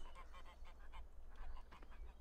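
Geese honking in the farming game Farming Simulator 15, a cluster of repeated nasal honks and quacks over a steady low hum, fairly close and continuous.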